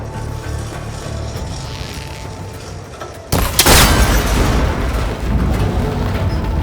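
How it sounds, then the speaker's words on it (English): A sharp, loud boom as a shot breaks a cable connector in Horizon Forbidden West, bursting suddenly out of a quieter ambient bed and leaving a long, rumbling tail. "That connector's holding the cables together. It should break if I shoot it."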